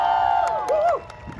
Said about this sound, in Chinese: 我们最爱的中信兄弟队全体队职员尖叫啊，给他们掌声！